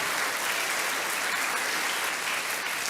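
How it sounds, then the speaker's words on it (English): Children and staff at an elementary school celebration clap together, a dense, even wash of applause heard from a distance and sustained without pause. "So give yourselves a round of applause, boys and girls."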